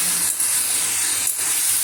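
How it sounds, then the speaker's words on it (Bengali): Rice boiling in a pot in a home kitchen, giving a continuous close steamy hiss and bubbling with slight surges, no voices. "এই দেখো, এটা হচ্ছে ভাতটা ফুটছে"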